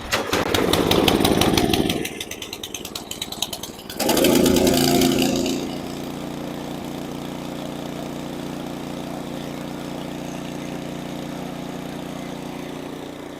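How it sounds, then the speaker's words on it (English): Snowblower engine at mid throttle sputtering to life, revving loudly, then settling into a steady close idle that drones on unchanged. "I've let the snowblower run for 5 minutes outside to get the oil"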